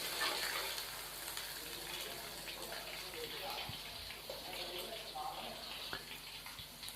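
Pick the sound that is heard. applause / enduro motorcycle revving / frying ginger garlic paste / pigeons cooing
frying ginger garlic paste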